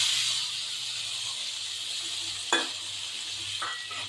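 Bottle gourd pieces hiss softly in a pan as tomatoes go in, with a couple of short clatters over a steady, quiet sizzle.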